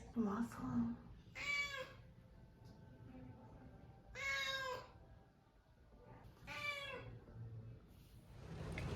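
Unhappy cats meow loudly in three long drawn-out wails spaced a few seconds apart, close by, with low background rumble between them.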